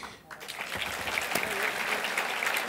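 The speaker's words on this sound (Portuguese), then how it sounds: "E ele merece essas palmas." Audience applause fills a cinema hall during a lecture event, with steady dense clapping sustained throughout and some voices mixed in underneath.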